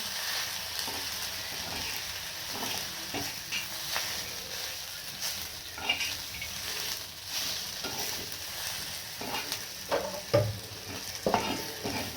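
Masala roasting in oil in a pan for kali mutton curry, a steady close sizzle running throughout with intermittent scrapes and clinks of a spoon stirring.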